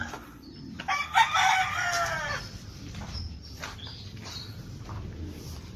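Backyard chickens with a rooster giving one loud crow near the start, followed by soft clucking and scratching close by in an outdoor pen.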